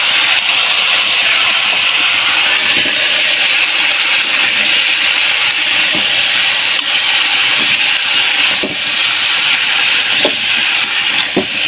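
Turmeric, salt and chilli powder fry in a pan with small prawns, giving a loud, steady hiss and sizzle with faint crackles throughout.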